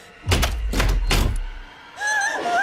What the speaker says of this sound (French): Porte verrouillée.